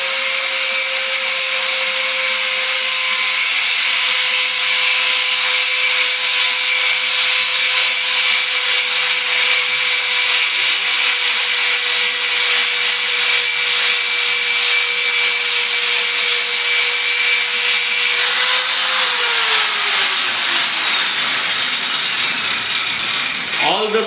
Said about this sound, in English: First, grinding is done with abrasive wheel to ensure that all the scale around the surface is removed